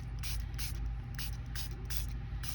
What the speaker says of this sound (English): And I'm going to just spray the heck out of it.